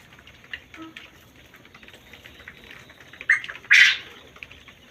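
Quail in a farm shed with fabric curtains and netting around it, giving scattered faint chirps and rustling plus two short, louder bursts of calling near the end.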